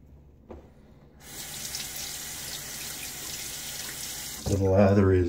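A tap runs into a sink while a Rockwell 6S safety razor is rinsed. The water starts after a moment of near silence, flows steadily, then swells into a louder splashing gush near the end.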